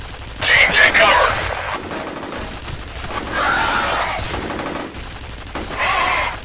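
Video game turret machine gun firing in long rattling bursts, loud and close, with gaps between each volley and a mechanical undertone.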